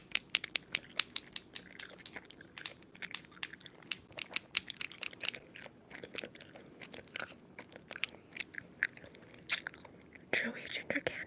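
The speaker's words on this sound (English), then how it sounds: "Chewy ginger candy." Chewy ginger candy is chewed close to the mic, with soft wet bites and crunchy, crinkly mouth sounds in an uneven rhythm, close and quiet, with light breathy vocal noises between chews.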